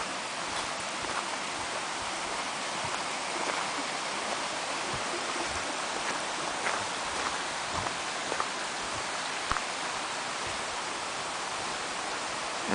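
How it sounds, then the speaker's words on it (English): A small creek flows steadily nearby, a continuous even rush of water with faint scattered ticks and splashes, no voices. "A little creek down here."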